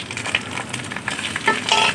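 Golden onions with ginger paste and green chili paste frying in a pan, a close, steady sizzle with brief stirring scrapes and small crackles over two seconds, no voices.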